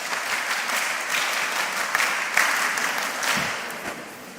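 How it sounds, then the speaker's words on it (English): Audience applause at a mentorship session, a steady burst of many hands clapping together for several seconds, fairly close and even, with no talk over it. "Clap for her."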